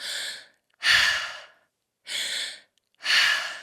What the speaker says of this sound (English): you're going to be breathing in and out your mouth like this